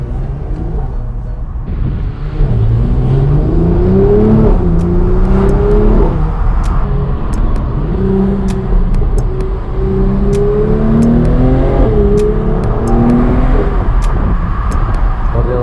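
A McLaren sports car engine revs hard through repeated rising gear pulls, its exhaust loud and close, with occasional sharp pops and crackles.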